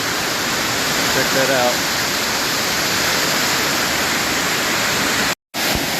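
A fast-flowing waterfall at Ricketts Glen State Park roars as a loud, dense, unbroken wash of rushing water that fills the whole scene, with someone briefly speaking over it.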